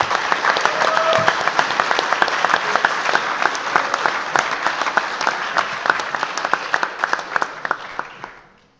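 Sustained applause from a school audience at a college sports awards night, dense clapping filling the room and tapering off toward the end.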